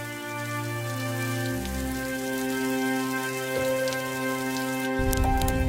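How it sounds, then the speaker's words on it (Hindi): Steady rain falls continuously on a village surface in cold weather, a dense, even patter with no voices, growing slightly heavier and rougher toward the end. "बारिश ने बंद होने का नाम नहीं लिया।"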